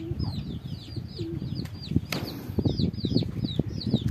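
Racing pigeon wings flap in quick fluttering bursts amid bird chirps and soft clucking, with a busy outdoor background and no clear talk.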